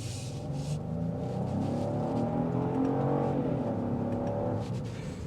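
A 2026 Genesis GV70 with the 3.5T engine accelerates hard, heard from the cabin as a loud, steadily climbing engine drone that holds for several seconds, with no talking.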